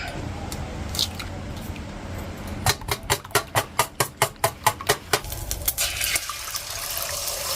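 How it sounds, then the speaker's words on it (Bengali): Eggs being cracked and beaten for Bengali egg dalna, a quick run of about a dozen sharp rhythmic whisking taps against a bowl in the middle, with softer kitchen handling before and after. "তো এবার আমি কটা ডিম ফেটে নেবো"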